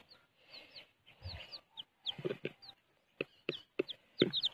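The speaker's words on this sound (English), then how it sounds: "Five chicks." A small group of five chicks peeps and chirps up close, with short, high, scattered calls that grow busier toward the end, over quiet farmyard background.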